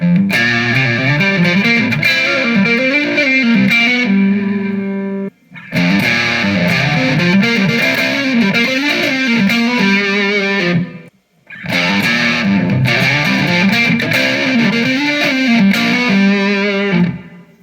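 Distorted electric guitar lead lines through an amp on the neck pickup position, loud and sustained, played in three phrases with brief pauses between.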